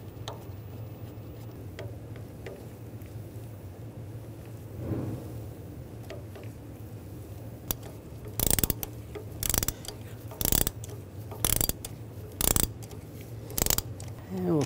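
A ratchet tightens a spark plug on a 2013-2016 Dodge Dart. A low steady hum runs first, then about half a dozen crisp, close ratchet strokes follow in an uneven rhythm.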